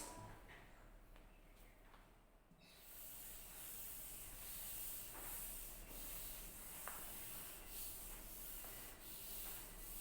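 A duster wiping a classroom board makes close, continuous brushy scrubbing that starts softer and grows louder and fuller partway through, with no voice heard.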